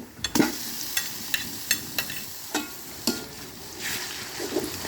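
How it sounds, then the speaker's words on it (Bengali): Onion paste fries in a pan over a village clay stove, sizzling softly while a spoon scrapes and stirs it in steady strokes about every half second, close by. "পেঁয়াজ বাটাটা দিয়ে একটু আমরা জাস্ট একটু নেড়ে চেড়ে দিই"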